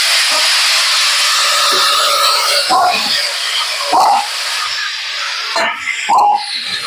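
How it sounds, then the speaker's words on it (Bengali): Chopped potatoes, onions, tomatoes and green chillies hitting hot oil in a kadai for a vegetarian potato and pointed gourd curry, giving a loud, steady hissing sizzle with a few sharp bursts and clatters as they are stirred. "আলু, পেঁয়াজ, টমেটো, কাঁচা লঙ্কা একসাথে কেটে রেখেছি এগুলোকে ঢেলে দিলাম কড়ায়।"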